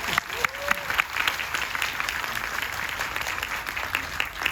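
Audience applause at a Korean film screening and director Q&A for Hunt, steady dense clapping from a seated crowd throughout, with a brief vocal sound early on.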